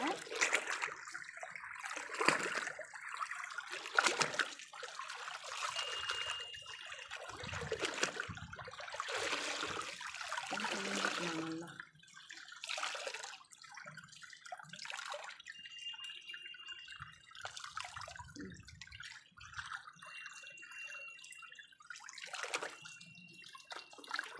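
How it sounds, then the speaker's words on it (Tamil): Water runs and splashes as old cloth dyed red is rinsed by hand, with intermittent pouring, trickling and dripping close by. "நல்லா இந்த மாதிரி தண்ணி ஓட ஓட அலசிக்கலாங்க"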